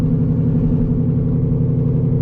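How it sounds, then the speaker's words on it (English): Whipple-supercharged S650 Mustang GT on cold start, with a cat-delete, X-pipe exhaust and dumps, rumbling loud and steady up close in a deep, continuous drone. "Cold start this thing, I just feel bad for my neighbors, bro. It is actually like the loudest shit ever."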